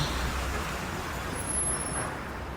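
Traffic on a busy road as an angkot minibus heading for Cimahi pulls in, a steady loud rumble of engines with a hiss of air brakes, no voices.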